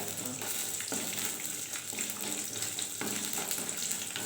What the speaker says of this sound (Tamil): எல்லாத்தையும் போட்டுக்கோம் வறுத்துக்கலாம் இதை